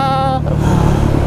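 A KTM 500 EXC supermoto motorcycle engine revs loudly and close, starting with a steady, clearly pitched whine that breaks into a rough, gravelly roar as the throttle opens.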